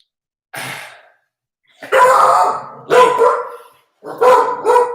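A dog barks in loud, close bursts: one short bark, then a run of several barks in quick succession after a brief pause, with no talking over them.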